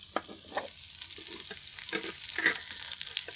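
Eggs fry quietly in a pan for a vegetarian tofu and egg dish, a faint crackling sizzle broken by soft scattered pops and stirring scrapes, with no voices.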